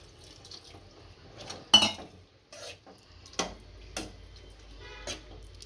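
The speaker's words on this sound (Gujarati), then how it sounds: "થોડુંક ગરમ પાણી નાખીશું।" Hot water is poured into a pot of potato curry cooking in tomato puree, with splashing and sharp metallic clinks of the pot and spoon, fairly quiet and close.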